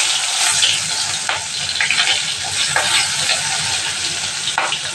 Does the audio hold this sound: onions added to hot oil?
yes